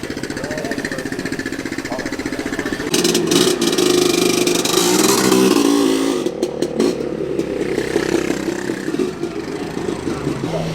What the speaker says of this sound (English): I can hear 12 of Jaguar's finest cylinders running over here.